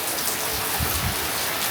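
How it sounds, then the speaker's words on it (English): Heavy tropical rain pouring down in Bali, a loud, dense, unbroken hiss of water filling the whole short stretch, with no voices. "Okay, it is really raining now."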